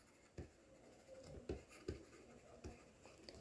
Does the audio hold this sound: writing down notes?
yes